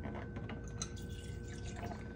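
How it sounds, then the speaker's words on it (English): A small splash of water is poured into a can while cooking chili for tater tots, a brief trickle with light drips, close and fairly soft, with no talking. "Now I'm going to put a little bit of water in there just to give it a little bit of, you know, to loosen it up some."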